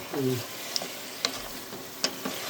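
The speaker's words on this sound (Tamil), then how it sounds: "இப்போ நல்லா வதக்கி விடுங்க" Bone-in mutton sautéing in a pan for a Chettinad mutton kuzhambu, with a low, steady sizzle broken by a few sharp clinks of a stirring spoon, and a brief murmur of voice at the start.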